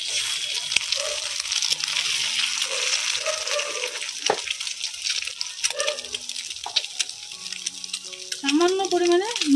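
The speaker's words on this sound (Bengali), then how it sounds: "এবারে আমি একে একে ডিম ফাটিয়ে কড়াইতে দিয়ে দেব" Eggs cracked one by one into mustard oil sizzle in a wok, a steady close frying hiss running throughout with occasional clinks, under soft background music.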